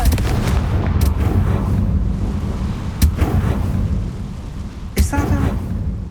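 A Confringo spell in the video game Hogwarts Legacy blasts off with sharp, booming explosive bursts at about one, three and five seconds over a dense low rumble of game background sound.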